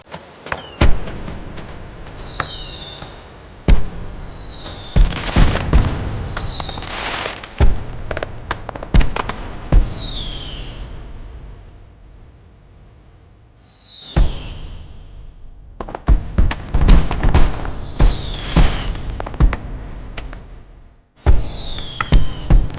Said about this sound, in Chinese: 怎么放起烟花来了？